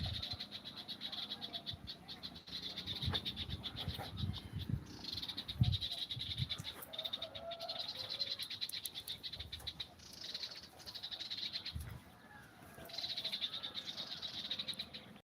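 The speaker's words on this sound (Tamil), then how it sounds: "பறவைகள் சத்தம் நல்லா இருக்கா" Faint bird calls chirp repeatedly in short bursts over a quiet outdoor background at a viewpoint overlooking Chennai, with a few soft croaks mixed in.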